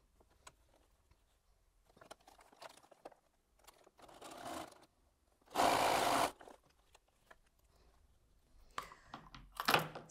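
A sewing machine stitching quilt pieces together runs in short bursts amid handling clatter, with one loud sustained whir midway and another near the end, close up and without speech.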